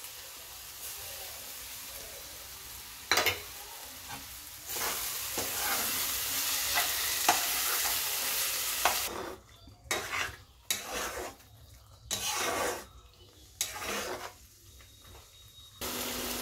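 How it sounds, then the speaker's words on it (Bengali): Jackfruit and prawn curry frying in a pan as whisked sour yogurt goes in, a loud hiss swelling then breaking into bursts of stirring and scraping against the pan, close and without talk. "এবার আমি গ্যাসটা সিম করে ফেটিয়ে রাখা টক দইটা দিয়ে দিলাম।"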